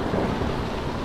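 Thunder rolls through a storm at sea in the video game Ships 2017, a dense, steady rumble mixed with rain noise that fills the whole moment at fairly high loudness.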